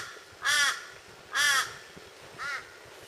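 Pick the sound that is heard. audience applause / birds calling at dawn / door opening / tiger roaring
birds calling at dawn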